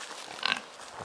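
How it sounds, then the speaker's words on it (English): Excited pigs at feeding time let out a short squealing grunt against low outdoor background noise, a single brief burst of animal calls. "Hello pigs! They're very excited because it's their feeding time"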